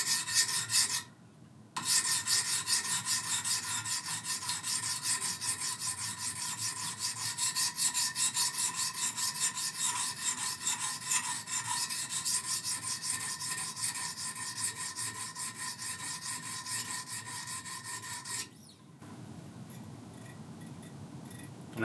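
A knife blade is drawn across a 400 grit stone on a Wicked Edge guided sharpener, making a continuous raspy scraping in steady, quick strokes. Two short pauses break the scraping.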